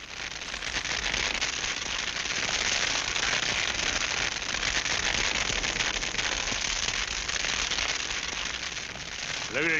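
Fire burning through dry grass, a dense steady crackling and hissing that fills the whole stretch at an even, fairly close level.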